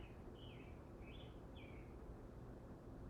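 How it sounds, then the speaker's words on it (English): Several short, high bird chirps and song phrases ring out in the first two seconds outdoors near a house for sale. They sit faintly over a steady low background rumble, with no talking. "Birds are really singing today."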